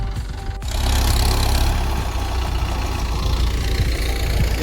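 A tractor engine idles nearby on a farm, a low, steady rumble that swells after a brief quieter start and holds even, with no voices.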